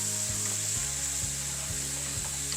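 Mushrooms and onions fry in butter in a pan, giving a steady, close sizzle with a few soft scrapes of stirring and no talk.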